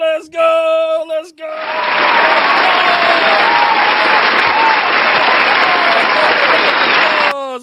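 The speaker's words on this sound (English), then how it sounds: "That's why I like to hit the applause button." An applause sound-effect button plays a burst of loud crowd clapping and cheering that lasts about six seconds and then cuts off abruptly, following a few brief tones at the start.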